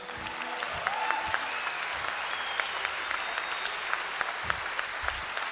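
A concert crowd in Lisbon applauds the conductor with steady, even clapping filling a large hall, moderately distant and unbroken by speech.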